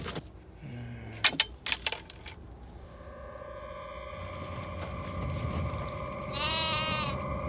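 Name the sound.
sheep bleating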